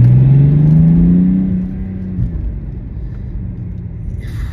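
A BMW E90 330d diesel with its rear exhaust back box deleted is accelerated hard in second gear, giving a loud, rising droning engine note that fades after about a second and a half into steady road rumble.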